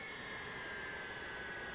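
A big American Boeing airliner at an airport produces a steady, faint jet-engine roar with a thin high whine running through it, constant and unbroken.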